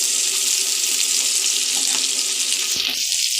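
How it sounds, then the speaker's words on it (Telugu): Fish frying in oil in a pan, a steady, loud, continuous sizzle that hisses evenly throughout with no voices over it. "చేపలు బాగా ఏగుతున్నాయి"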